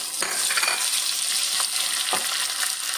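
Crushed ginger, garlic and chopped shallots sauté in hot oil in a pan while cooking a tomato buttermilk curry, giving a loud steady sizzle with a few scraping stirs of a spoon.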